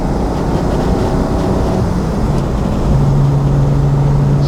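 A 1966 Ferrari 330 GTC with a 300 PS V12 engine drives along, its engine a loud, steady, close drone that deepens into a strong low tone partway through as the car pulls.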